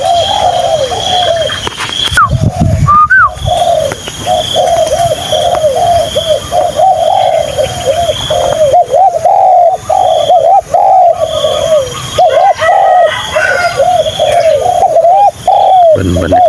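A dove coos over and over in a soft, rolling rhythm, with other birds chirping and an outdoor hum behind it.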